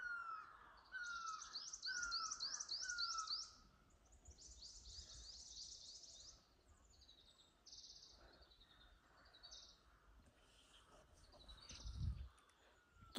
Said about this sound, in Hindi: ऐसी ही चिड़ियों की आवाज़ सुनाई दे रही है ना, सुनो।